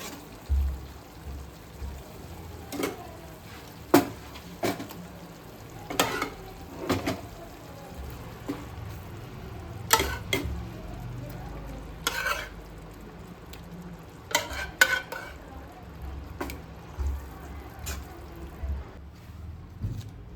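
A metal spoon scrapes and stirs pav bhaji masala with gravy in a frying pan, with sharp intermittent clinks against the pan over a low sizzle, recurring irregularly for about twenty seconds.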